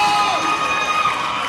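A high school boys basketball crowd cheers and shouts in a gym, a dense, loud roar of voices lasting only a moment.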